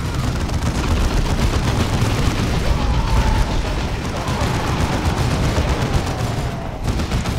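Dense, continuous battle noise from the video game Dawn of War 2: loud overlapping gunfire and explosions rumble without pause for several seconds.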